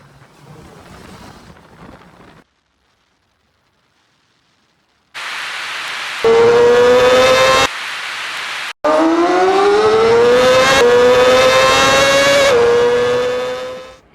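A 2025 Honda CBR650R ridden on the road, its engine revving in rising, whining bursts with gaps of near silence between pulls, loud and close.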